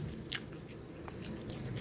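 Close chewing and biting of a Thai meal of sour curry with cha-om omelette and dipping sauce, soft squishy mouth sounds with a couple of brief crisp clicks, quiet and without talk.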